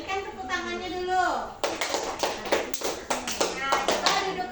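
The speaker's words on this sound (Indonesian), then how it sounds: "Berikan tepuk tangannya dulu." Classroom of primary-school children clapping for a group presentation, a burst of many small hands close by following a teacher's voice, the rapid patter continuing to the end.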